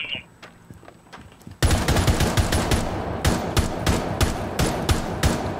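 Gunfire in Rainbow Six Siege: a few faint shots, then sudden loud, close bursts of rapid automatic fire with sharp repeated cracks continuing to the end, no talking.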